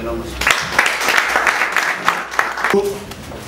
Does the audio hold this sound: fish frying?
no